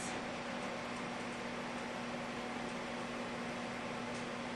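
A microwave oven hums steadily while it melts margarine, a constant even drone with a low tonal whine that does not change, and no one speaks.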